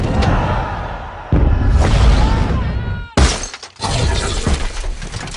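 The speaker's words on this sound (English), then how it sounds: "the bit of the the guy hitting the glass was in the film" Glass shatters loudly in action footage from Transformers: The Last Knight as a man strikes a pane, with two separate crashing bursts of breaking fragments over a dense film soundtrack.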